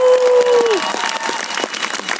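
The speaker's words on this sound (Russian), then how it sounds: "Друзья, аплодисменты, Лоуренс Краусс!" An audience applauds after a lecture by Lawrence Krauss at Kaspersky Geek Picnic 2017 in Moscow, with a steady burst of crowd clapping under amplified speech from a host.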